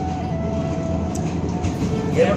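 A train rumbles along steadily with a low, continuous mechanical drone and a faint whine, close and fairly loud, with no talking.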